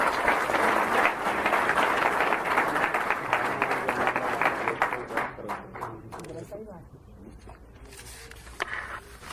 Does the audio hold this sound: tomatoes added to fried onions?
no